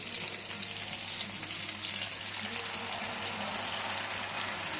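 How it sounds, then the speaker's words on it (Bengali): Spice paste tipped into hot oil already seasoned with kalo jeera and green chillies, the start of a pabda fish curry with mustard and poppy seed, frying in a steady, dense sizzle that holds evenly from start to finish with no talk. "এবার আমি মশলাটা ঢেলে দিচ্ছি।"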